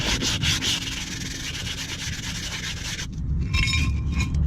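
Chunky corrosion is scrubbed off a steel brake rotor hub on a VR4 during a brake overhaul, making a close, continuous rasping scrape. About three seconds in it gives way to lighter, thinner rubbing strokes.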